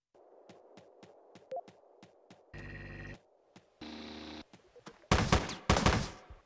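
Gunfire in the top-down shooter game Teleglitch: a run of sharp, evenly spaced shots gives way to dense, loud bursts of rapid fire toward the end.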